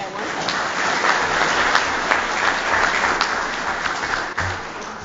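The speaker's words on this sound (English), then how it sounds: "So, big round of applause." Attendees at a city Board of Mayor and Aldermen meeting give a big round of applause, loud continuous clapping throughout with a few sharper claps standing out near the end.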